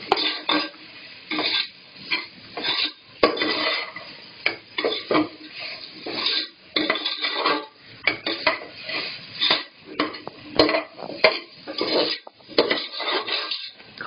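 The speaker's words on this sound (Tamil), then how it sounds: "கேரட், பீன்ஸ், உருளைக்கிழங்கு, ஊற வச்ச பட்டாணி இது எல்லா காயையும் அதில் போட்டு ஒன்றா போட்டு நல்லா வணக்கி விடணும்." Carrots, beans, potatoes and soaked peas being stirred together in a pan for vegetable biryani, with a steady run of close metallic clanks and scrapes from a utensil against the pan and no talking.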